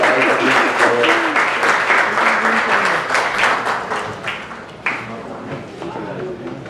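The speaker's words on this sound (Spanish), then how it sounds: "Un aplauso para ella, por favor." Audience applause fills an assembly hall, a dense, steady wash of many hands clapping that gradually thins toward the end, with faint voices underneath.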